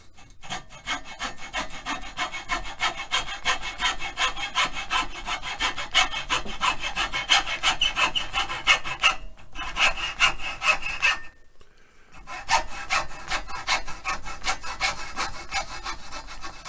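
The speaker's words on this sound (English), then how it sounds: "I like a hacksaw because the blade is super fine." A fine-toothed hacksaw cuts through a small rod for a car radio knob, with steady close back-and-forth rasping strokes that pause briefly twice, no talking.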